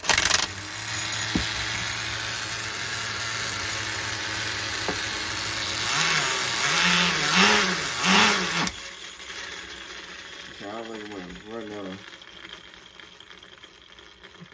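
A small HPI MT2 nitro RC truck engine runs loud and buzzy, rising and falling as the throttle is blipped, then drops to a quieter idle with a few short revs toward the end.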